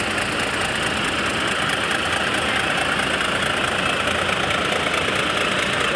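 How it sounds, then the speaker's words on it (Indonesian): A bus engine idles smoothly and steadily at close range, a continuous even rumble with no other sounds over it. "Suara mesin ini masih halus ya."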